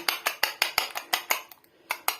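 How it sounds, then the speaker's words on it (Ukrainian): A fork whisks two eggs in a bowl, a quick steady run of light metallic clinks against the dish, close but fairly soft, with one short pause before the beating resumes. "Взяла ось двоє яєчок розіб'ю їх отак вилочкою."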